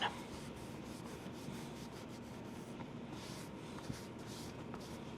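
A cloth or rag rubs wood stain onto a wooden boot jack, a faint, steady soft scrubbing with light strokes and a few small taps, heard close up and alone.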